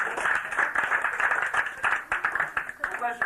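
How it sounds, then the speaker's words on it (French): An audience claps together at a French stage show, a dense, steady patter of many hands with some voices mixed in, fairly close and continuous throughout. "maintenant, on va s'applaudir"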